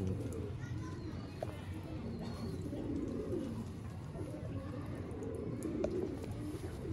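Several fancy loft pigeons coo steadily at close range, a low rolling murmur throughout, with faint voices and children's sounds in the background.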